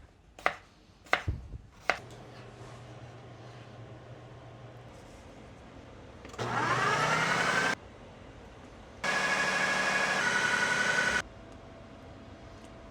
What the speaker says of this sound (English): This was my first time using a food processor for dough.